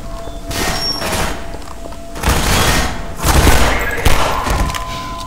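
Gunshots in the Half-Life video game land as several heavy, thudding reports spaced a second or so apart, each with a short booming decay over a low ambient hum.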